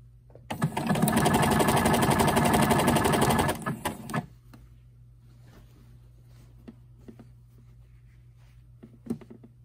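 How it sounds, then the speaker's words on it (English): A sewing machine stitching down a strip on a jacket runs in one steady buzzing burst of about four seconds, close and loud, then stops and leaves faint handling clicks over a low hum. "I'm just going to lay this in here. And I'm going to stitch it down."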